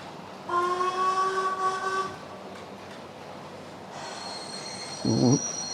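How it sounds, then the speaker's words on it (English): Whistle of a Black 5 steam locomotive on a model railway, two drawn-out tonal blasts a couple of seconds apart, the second higher and thinner, with a brief low rumble near the end. "The Black 5 has a beautiful whistle."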